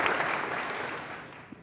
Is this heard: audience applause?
yes